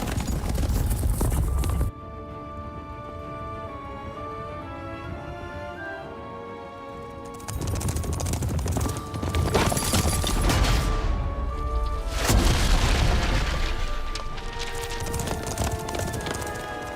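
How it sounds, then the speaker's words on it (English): Horses in the Witcher 3 video game gallop with rapid hoof clatter and occasional neighs amid game music and crashing effects, loud and busy throughout. "Trampled by the horses."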